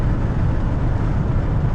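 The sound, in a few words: vehicle turning on road nearby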